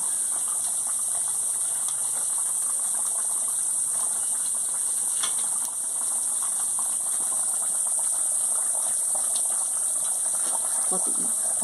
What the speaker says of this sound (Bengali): দেখুন বন্ধুরা কিরকম ঘর বড় বড় ফুটে গেছে